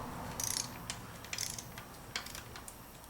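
Torque wrench tightening bearing cap bolts on a Ford 460 engine for a 1980 F-350 service truck, a few faint, short ratcheting and clicking bursts spread over a quiet workshop background.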